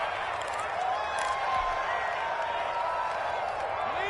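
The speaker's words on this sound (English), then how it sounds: "The crowd maybe losing just a little bit of the edge after back-to-back punts." A stadium crowd in a football video game keeps up a steady, dense roar of cheering and murmur, with a commentator talking over it.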